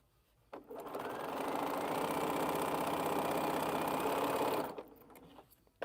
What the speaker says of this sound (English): Sewed that whole long seam.